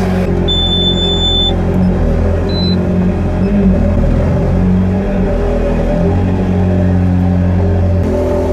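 A Ferrari 360 Spider's engine revs loudly and steadily up close, a deep, rich rumble holding strong with a faint whirring hydraulic gearbox pump underneath, running continuously without pause.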